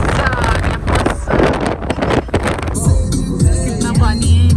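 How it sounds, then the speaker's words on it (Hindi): Cold wind buffets the microphone on a trip near Rishikesh, Uttarakhand, a loud steady low rumble with gusty swells throughout, while people talk over it in the first part. "ठंडी हवा चल रही है"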